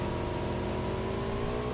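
Motorbike engine in PUBG Mobile revving steadily and loudly, a continuous droning hum that stays up close for the whole stretch with no voices over it.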